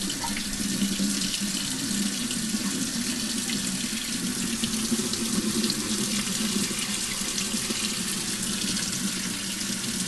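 Warm water running steadily from a kitchen tap while sourdough pancakes are being prepared, a continuous even splashing stream into the sink with no voices.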